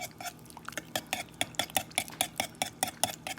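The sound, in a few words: mixing apple cinnamon muffin batter in a bowl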